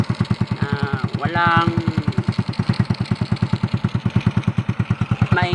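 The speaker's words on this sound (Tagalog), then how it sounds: "Tapos yung tambutso lang ang maingay dito." A Honda Wave 100 motorcycle idles with a loud, noisy exhaust, its steady rapid thumping running the whole time close by while someone talks over it.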